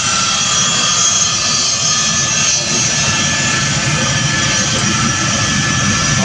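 Large jet airliner at an airport, a loud, steady engine roar that fills the whole stretch, close by, with no talking over it.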